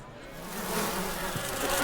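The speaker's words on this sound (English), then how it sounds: "Bit too many bees for my liking." A swarm of bees in a Ben 10 cartoon scene buzzes as a dense, steady drone that swells slightly louder, filling the background without speech.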